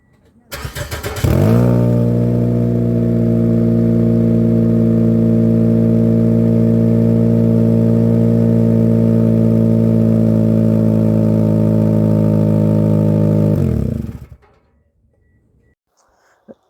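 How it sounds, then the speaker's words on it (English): A 2005 Toyota Corolla 1.8 engine starts and idles steadily with a loud, raspy, throbbing exhaust note from a leak in the muffler piping, running evenly before shutting off near the end. "I'm going to show you on how this vehicle sounds now and show you on where the exhaust leak is"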